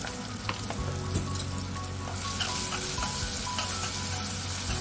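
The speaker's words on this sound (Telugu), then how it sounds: "ఉల్లిపాయలు మంచిగా వేగుతాయండి" Onions sizzle and fry in a salted pan, a steady dense crackle that grows louder and busier halfway through, with occasional stirring knocks and no talk.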